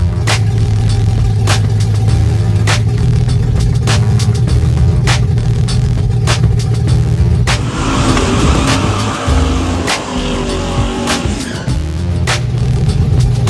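A drag race car engine rumbles loudly at the start line during a drag racing event, with sharp repeated revs punctuating the idle before a rougher, noisier burst of acceleration; no one speaks.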